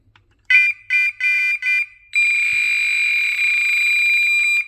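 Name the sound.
BearCreeks BCBA02/BCBA03 bite alarm sounding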